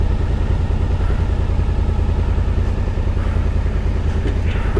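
An off-road motorcycle on a trail, its engine droning loud and steady with a rough, rumbling throb as the rear wheel digs in, continuous throughout with no voices.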